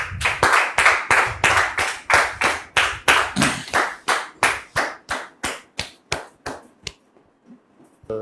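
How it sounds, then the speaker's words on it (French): Studio audience applause on a talk show, a burst of rhythmic, close clapping that starts full and gradually thins into slower, sparser claps before fading out. "notre sœur Georgette, sous vos applaudissements, s'il vous plaît."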